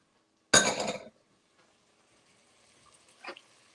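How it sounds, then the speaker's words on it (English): Celery for lobster bisque dropped into a cooking pot, a single bright clattering splash-like hit that quickly fades, followed by quiet and a faint later clink. "So I'm going to drop my celery."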